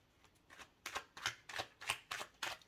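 Tarot cards being handled and drawn from a deck during a reading, a series of crisp papery swipes and flicks repeating roughly every half second, close and fairly quiet, with no talking.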